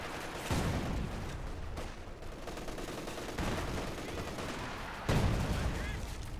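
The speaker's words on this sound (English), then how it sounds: "MG34 does get a bit of suppression there" MG34 machine gun in the strategy game Company of Heroes 2, bursts of rapid gunfire among a busy battle mix of other shots and explosions, moderately loud with some distance.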